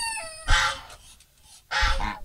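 A pet farmyard goose lets out two loud, harsh honks separated by a short pause. A brief nasal call at the very start comes before the first honk.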